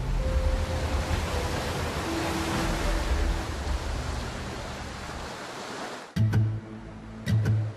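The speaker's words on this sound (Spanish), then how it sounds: "El mar azota en los acantilados." Rough Atlantic sea pounds the cliffs at Cabo Vilán at nightfall as a storm builds, making a loud, steady roar of surf that ends in a few sharp, heavy bursts.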